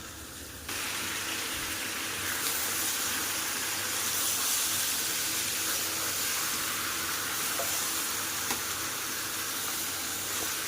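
Mutton and fried potatoes sizzle steadily in a wok while being stirred and browned for a red curry, a continuous loud hiss with no talking.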